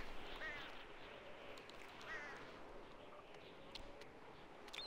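Duck quacks in GTA Online, a few short calls over a steady bed of game ambience, moderately close and fairly quiet.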